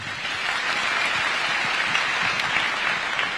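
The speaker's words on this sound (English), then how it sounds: "Another round of applause for His Excellency." A crowd applauds after a speech by President Ruto at an event with graduate interns, producing full, continuous clapping that holds steady and loud from start to finish.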